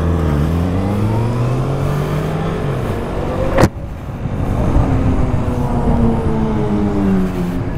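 A motorcycle engine revs hard in London traffic, a loud, steady drone with rising and falling pitch, a sharp bang or click at mid-point, then the throttle builds again close by.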